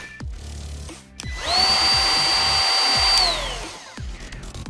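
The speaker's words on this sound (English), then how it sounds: "the trim router can trim up to 22 meters of pine" Cordless trim router with depth adjustment dial and LED light, cutting pine: a high motor whine rises as the bit engages, holds steady for about two seconds of cutting, then winds down, with handling knocks before and after.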